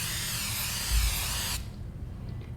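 A steady, hissing spray from an aerosol can runs for about a second and a half, then cuts off, leaving quiet room tone.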